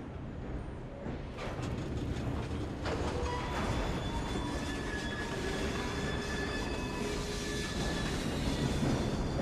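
A train running in Assassin's Creed Syndicate, a continuous loud rumble of rolling wheels and carriages with faint wheel squeals and metallic whines rising above it, steady throughout with no speech.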